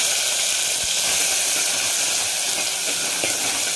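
Coarsely ground green chili and garlic paste sizzles loudly and steadily as it is sautéed in hot oil in a pan, a close, continuous hissing sizzle with faint stirring knocks.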